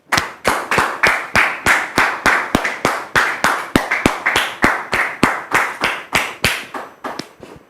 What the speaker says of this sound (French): que nous recevons sous vos applaudissements